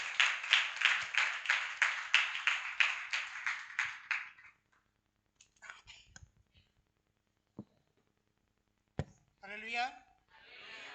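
Church congregation clapping hands in unison to welcome guests at a thanksgiving service, a rhythmic run of about fifteen claps over four seconds that tapers off, followed by scattered sounds and a voice speaking.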